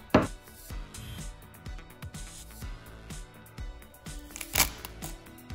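A knife slices watermelon into cubes, giving a run of short, crisp chopping taps in uneven rhythm, close and moderately loud with a couple of sharper thuds.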